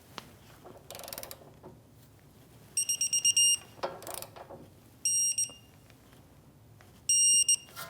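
A 21 mm socket wrench tightens a rear upper rearward control arm bolt on a 2016-2025 Chevrolet Malibu, giving short ratcheting clicks, followed by three bursts of high electronic beeping from the tool.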